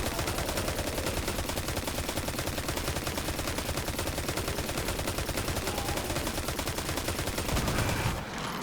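Rapid, continuous gunfire from a weapon shooting enemies in Destiny 2, loud sustained automatic bursts running steadily for several seconds before cutting off near the end.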